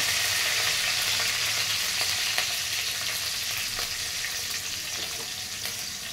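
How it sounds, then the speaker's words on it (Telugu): Green chillies fry in oil in a pan for a morning kichidi, giving a steady, dense sizzle with faint stirring clicks that fades slightly toward the end. "పచ్చిమిర్చి వేసాను, ఇది ఫ్రై అవ్వాలి"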